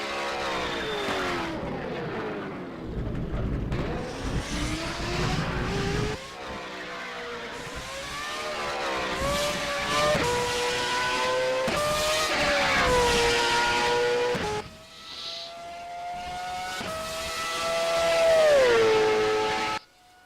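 A BMW M3 saloon fitted with an F1 engine in a racing video game, revving high and loud through repeated rising gear pulls with shifts and brief lifts, continuous and close with no talk.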